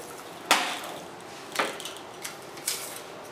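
Hand-operated lock seamer clamping radiator core tubes while building a honeycomb core: a few sharp metallic clacks, one loud near snap followed by three fainter knocks, spaced about a second apart in a quiet room.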